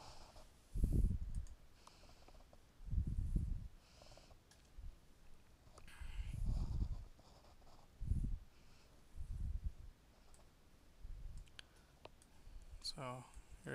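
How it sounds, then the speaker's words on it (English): Computer mouse clicks on a Galaxy S4 phone connected through an OTG cable, sharp light clicks under and between bursts of a man's nearby speech. "So if I click on something here,"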